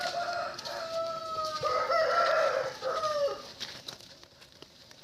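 A Bhimavaram breed rooster lets out one long crow that rises and holds for several seconds, moderately close against a light farmyard background of clucks and rustle.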